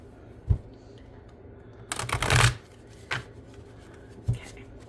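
Tarot cards being shuffled by hand: a few sharp isolated taps and one longer rustling riffle of cards in the middle, close and fairly quiet, with no talk.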